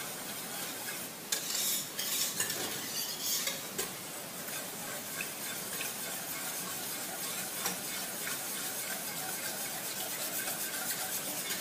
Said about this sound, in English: Make sure they're well whisked and well incorporated.